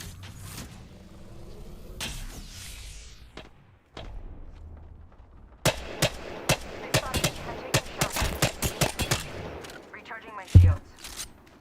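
Gunfire in the shooter game Apex Legends: several bursts of sharp shots arriving in quick irregular volleys, loud and close, with a heavy thud near the end and muffled game ambience before.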